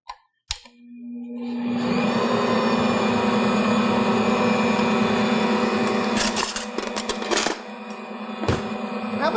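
An Ankarsrum stand mixer kneading chocolate chip cookie dough: a click, then the motor spins up to a steady, loud humming whir that runs on, with rattling clatter and knocks near the end.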